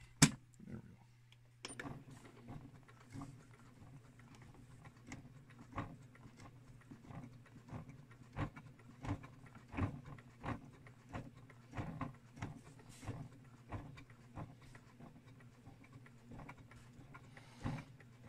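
A sewing machine stitches embroidery onto sports gear, a steady fast run of needle thumps with an underlying motor hum, fairly quiet and continuous.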